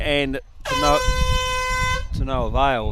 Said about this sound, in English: Or the air horn, for want of a better word